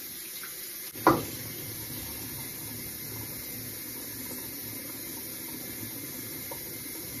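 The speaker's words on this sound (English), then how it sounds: "Let's rinse it off." Water runs steadily under a tap, rinsing something off in a kitchen with a continuous splashing hiss, opened by one brief clatter near the start.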